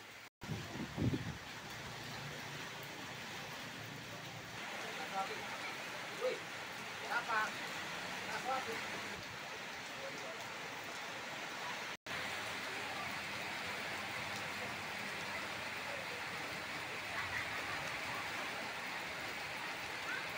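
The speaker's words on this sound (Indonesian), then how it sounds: "Hujan sangat keras." Heavy rain pours steadily outside a busy shop, a dense continuous hiss throughout with a few brief louder knocks near the start and one momentary dropout midway.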